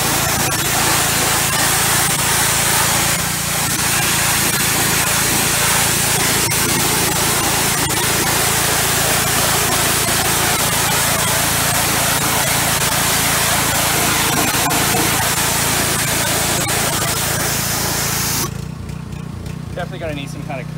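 A Simpson 2800 PSI power washer fitted with a white tip sprays steadily without soap, giving a loud, continuous close hiss and engine drone that cuts off abruptly near the end.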